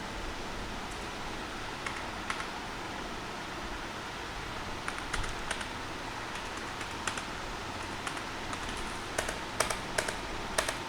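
Faint clicking of computer keyboard keys while a GST number is entered, scattered taps over a steady background hiss of fan noise, growing a little busier toward the end.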